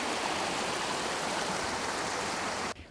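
Brook water flows steadily at a beaver dam, a loud, continuous rushing wash that cuts off abruptly at the end.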